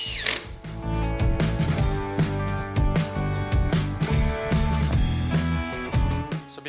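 Power drill driving screws into a 2x4 workbench kit, whirring in repeated short runs with brief stops between, loud and close with no talking.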